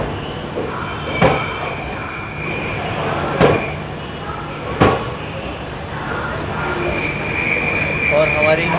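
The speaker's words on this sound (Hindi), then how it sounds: "ट्रेन आ रही है।" Deccan Queen Express with new LHB coaches rolls into platform 6 at Pune station: a steady rail rumble broken by three sharp metallic clanks, with a screechy rise near the end and faint background voices.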